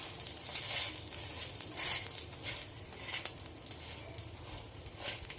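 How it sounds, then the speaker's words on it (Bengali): A snack frying on both sides in a pan, a moderate steady sizzle with crackling pulses of oil rising and falling, no voices. "খুব ভালোভাবে দুই সাইড ভেজে নেব"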